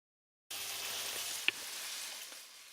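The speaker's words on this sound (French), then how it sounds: "j'ai les Saint-Jacques qui sont en train de cuire" Saint-Jacques scallops sizzling in a hot pan, a steady broadband frying hiss that starts abruptly and continues unbroken, with one sharp pop partway through.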